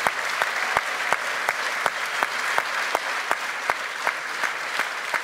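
A theatre audience gives a standing ovation at a film masterclass, with dense, steady applause and a few louder individual claps punctuating it rhythmically throughout.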